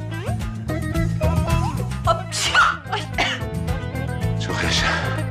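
A single sharp sneeze bursts out midway through, set against steady background music.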